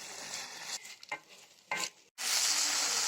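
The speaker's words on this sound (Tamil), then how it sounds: "தலையும் சேர்த்து ஆட் பண்ணி நல்லா வதக்கி எடுத்துக்கலாம்" Thuthuvalai leaves sauté in a pan with soft sizzling and intermittent stirring scrapes, rising to a louder, continuous sizzle near the end; close and with no voices.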